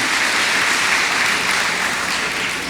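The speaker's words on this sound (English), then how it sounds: "Let us give all of our platform guests a round of applause." Steady, dense clapping from a commencement ceremony audience at Harris-Stowe State University, sustained and loud across the whole stretch with no talk over it, tapering only slightly at the end.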